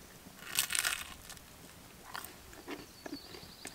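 Crunchy bites into the crisp crust of fresh Dutch-oven bread, a loud crackling bite followed by softer chewing crunches, close to the mouth.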